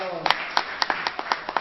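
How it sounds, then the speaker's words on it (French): Classroom audience clapping together during a French-language health education lesson, a burst of quick, irregular handclaps that fades after under two seconds. "Applaudissons fort alors."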